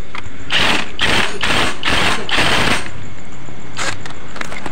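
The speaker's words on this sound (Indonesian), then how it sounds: "Untuk puli belakang kita kencangkan menggunakan kunci shock 19" A socket wrench tightens the pulley nut on a Honda Vario 110 scooter, sounding as five quick, loud ratcheting bursts in a row, then a pause and a couple of shorter clicks.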